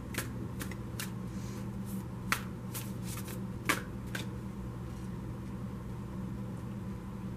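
A tarot deck shuffled close up with a steady soft riffle and a few sharp card snaps, over a constant low hum in a quiet room.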